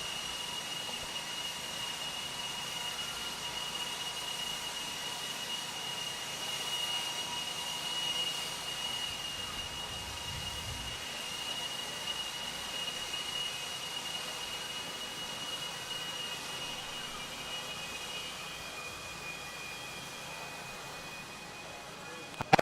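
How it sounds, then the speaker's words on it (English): Leaf blowers clearing debris off an RC car race track hum with a steady high-pitched whine that holds for over twenty seconds at moderate distance. A brief low rumble passes midway. "Marshals, grab those blowers. Are blowing off your areas."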